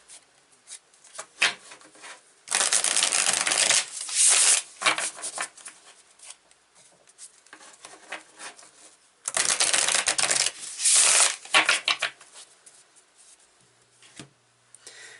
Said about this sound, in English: So this is the Yarn Tarot. This is my grandmother's deck. Let me give it a shuffle here.